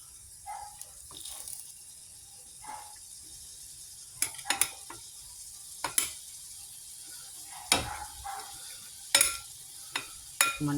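Squid with calamansi being stir-fried in a pan, soft intermittent sizzles and scraping stirs with clinks of a utensil, close but quiet against a low background.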